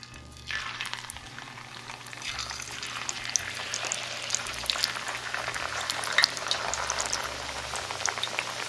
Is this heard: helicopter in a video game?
no